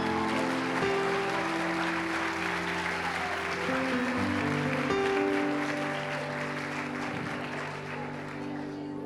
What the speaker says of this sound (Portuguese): Eu quero que você aplaude a vida dele.